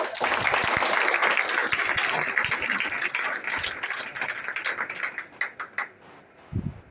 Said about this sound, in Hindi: एक जोरदार तालियों के साथ उनका अभिनंदन